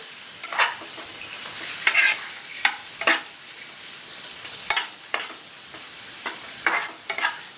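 Pangas (basa) fish frying over a low flame in a pan for cutlets, a quiet continuous sizzle broken by repeated scraping strokes of a spatula at irregular intervals, close and without speech.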